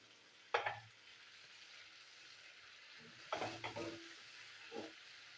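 Soaked raw chickpeas and salt stirred in a hot pan for a taro-leaf dish, with a soft steady sizzle under three short bursts of scraping and stirring.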